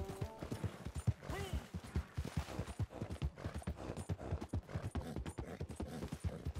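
Horse hooves galloping in the video game Red Dead Redemption 2, a fast, regular clip-clop rhythm of repeated thuds running throughout, fairly close, with faint creaks and some speech underneath.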